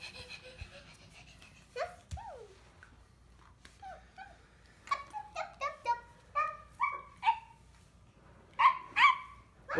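A dog gives a run of short, sharp barks and whimpering yips in a camping setting, moderately near and growing more insistent toward the end, with no talk over it.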